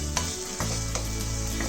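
Vegetables for upma fry in a pan, a steady sizzle broken by a few scraping strokes of a spoon stirring through them, close and fairly loud with no voices.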